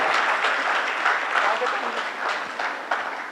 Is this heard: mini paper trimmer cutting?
no